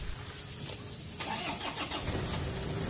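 A Toyota Hilux engine cranks and catches, starting after a muffler pipe cleaning, then settles into a steady idle, heard up close and moderately loud.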